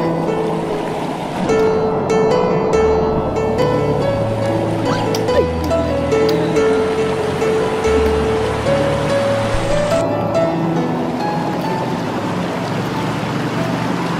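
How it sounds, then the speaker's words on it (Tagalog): A person bathes alone in a river, with a steady broadband rush of flowing water throughout and faint sustained tones running beneath it. "Gusto niya talaga maligo sa ilog"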